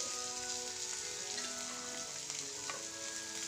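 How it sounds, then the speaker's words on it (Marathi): Grated boiled potatoes sauté in a pan with oil and turmeric for aloo methi paratha filling, giving a soft continuous frying sizzle with faint stirring scrapes and no voices. "ते टाकून आता परतून घेऊ"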